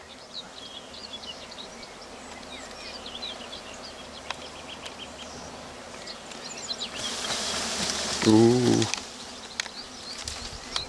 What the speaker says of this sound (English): there's a hell of a lot of bees in this one